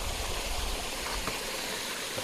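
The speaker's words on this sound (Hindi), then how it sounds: "ये घने जंगल का पानी और ये पूरा मिनरल वाटर है" Water flowing in a stream through dense forest, a steady broadband rush that stays even and fairly close throughout, with no voices.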